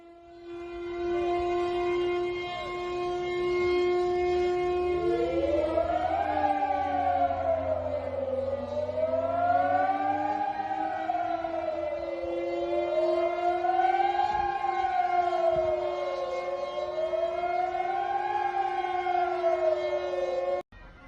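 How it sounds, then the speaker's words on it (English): Air raid sirens wail across Serbia, loud and continuous for about twenty seconds. A steady tone gives way to slow, repeated rising and falling sweeps that overlap one another, with no voices. "Sirens and church bells are ringing."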